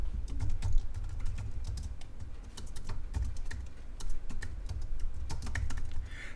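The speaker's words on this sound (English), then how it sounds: "I'm going to type a person's name in the chat box." Keys clatter on a computer keyboard in irregular quick bursts of clicks, close and fairly quiet, with short pauses between runs of typing.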